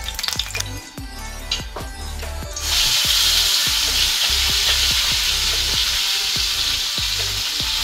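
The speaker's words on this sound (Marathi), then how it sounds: "तर मसाला भाजून घ्यायचा आपल्याला मस्त तेलामध्ये" Loud, continuous sizzle of spice masala frying in hot oil for chicken sukka, swelling up after a few seconds of clattering, with steady scraping strokes of stirring throughout.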